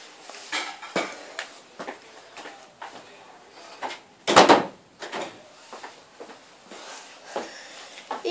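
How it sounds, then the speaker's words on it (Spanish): A door is shut inside a home, giving one firm thud midway through, surrounded by light knocks and handling clatter, with people talking nearby. "Espera, que cerramos la puerta."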